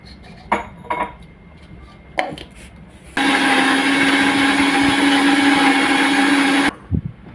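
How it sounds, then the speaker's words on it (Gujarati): A mixer grinder jar crushes green chilies, coriander, mint and two pieces of ginger with water for pani puri. A few clinks come first, then a loud, steady motor whirr runs for about three and a half seconds before cutting off, followed by one more clink. "આ આવતું જાતું પાણી નાખીને મિક્સર જારમાં આપણે આને ક્રશ કરી લઈશું"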